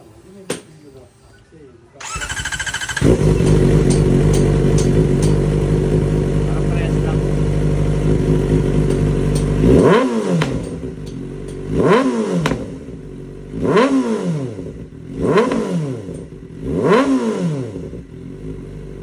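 A motorcycle fitted with a newly installed Villain R9 aftermarket exhaust pipe starts up and idles loudly for several seconds, then gives five sharp revs in a steady rhythm, close by.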